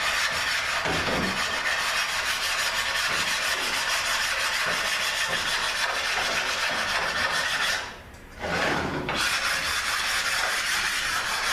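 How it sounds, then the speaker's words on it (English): Flat sanding of a 4R70W transmission valve body gives a steady, close, abrasive rasp of metal rubbed across sandpaper, with a brief pause near the end before it resumes. "what I like to do before I clean this up is I like to flat sand"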